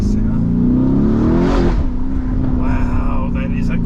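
A 2021 Lamborghini Urus engine revs up loudly and close, with the pitch climbing before it shifts and settles into a steadier drone.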